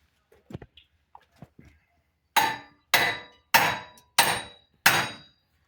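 Five sharp metallic hammer strikes on a seized front wheel bearing of a 2012 Nissan Quest ring out at a steady pace, preceded by a few faint taps and small clinks.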